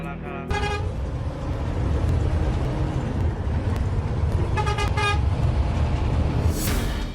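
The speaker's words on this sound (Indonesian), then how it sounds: "3 bus terekam amatir saat terlibat aksi kejar-kejaran di Jalan Panglima Sudirman, Kota Nganjuk" Three buses racing each other along Jalan Panglima Sudirman in Nganjuk, a loud continuous engine and road roar with repeated blaring horn blasts near the start and again later, while a voice speaks over it.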